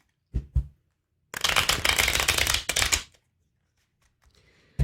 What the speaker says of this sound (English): Got a few more shuffles here.